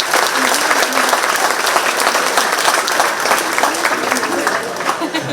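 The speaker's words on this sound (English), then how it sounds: "Let's give them a round of applause right out of the chute." Crowd at a county fair queen event applauding, a dense, loud, steady wash of clapping sustained throughout.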